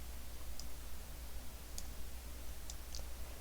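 Computer mouse clicks while working in Grasshopper 3D modelling software: a few sparse, faint, sharp clicks, including a quick pair, over a low steady hum.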